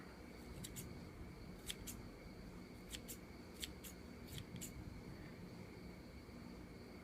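Small scissors snipping the tip of a human hair paint brush, giving a series of faint, crisp clicks spaced irregularly over a low steady background hiss.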